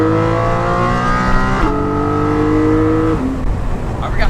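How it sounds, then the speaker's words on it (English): A Porsche 718 Cayman GT4, the GT version of the Cayman making 420, revs loudly up close in rising and falling sweeps, its engine pitch stepping up and then dropping back, with faint talk underneath. "I forgot how good this car sounds and the inside."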